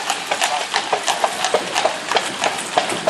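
Steady, rhythmic clip-clop of a horse's hooves on pavement, close and fairly loud, with no talk.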